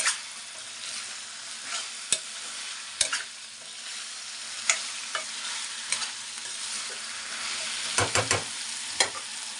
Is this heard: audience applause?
no